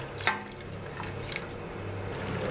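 Stock is poured into simmering risotto in a home kitchen, a faint liquid trickle and a few soft splashes over a low steady background, no talk.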